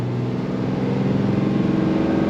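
A Dodge Ram 5500 Cummins diesel truck accelerates hard, its engine note loud and close as a rising, throbbing drone that fills the whole short stretch, with no talk.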